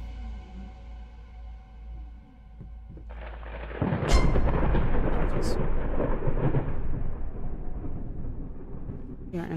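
Thunder from a storm in the horror game Layers of Fear rolls in with a sudden loud crack and a long, dense rumble that slowly fades, after a quieter ambient stretch.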